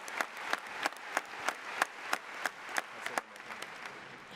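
An audience applauds at the 2018 NEA convention with a steady run of sharp, evenly spaced claps that sound moderately distant and fade slightly toward the end.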